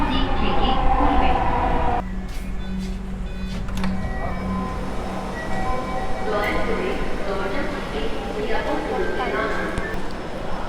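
A Dhaka metro rail train pulling into Uttara Center station, a steady rumble and hum under an onboard chime and a clear recorded announcement, with a shift in tone partway through.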